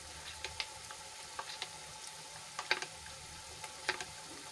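Spices sautéing in a pan: a quiet, close frying sizzle broken by scattered sharp crackles and pops at an uneven pace, with no one speaking.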